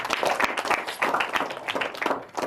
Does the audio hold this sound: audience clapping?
yes